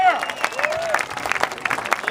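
Brief applause and cheering rise from an outdoor crowd at a veterans' rally in Valley Forge Park as the next speaker is called up, with clapping mixed under a voice speaking over it.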